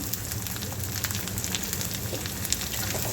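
Onion fries in hot oil with garlic and chilli, giving a steady, close, dense sizzle and crackle with small pops scattered throughout.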